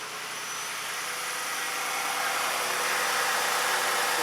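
A Jeep/Dodge car engine, one with an alternator that will not charge, idles steadily after starting, a constant close hum that grows slightly louder, with no talking.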